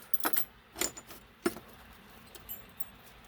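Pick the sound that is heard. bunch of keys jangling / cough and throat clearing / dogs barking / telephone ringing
bunch of keys jangling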